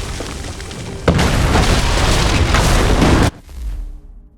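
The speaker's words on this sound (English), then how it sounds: "we're going to have to make it down this hill, which is being bombarded, through that town that's being bombarded" Artillery bombardment in Assassin's Creed 3 during the Battle of Bunker Hill, a heavy sustained booming roar that cuts off abruptly before a lower, quieter rumble follows.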